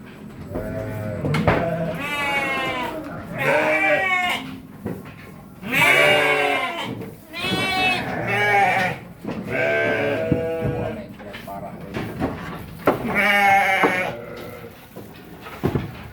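Newborn goat kids of a prolific breed bleat repeatedly at close range, a series of loud wavering cries separated by short pauses.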